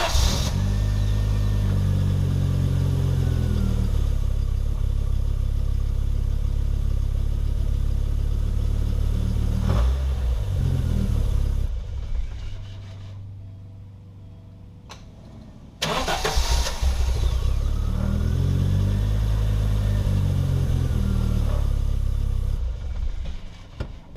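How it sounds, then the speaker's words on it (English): An Audi 5000 CS Quattro engine cranks and fires, idles loudly, shuts off, then starts again right away and keeps running with a steady close-up rumble. "I'm going to start it up and see if it starts right up."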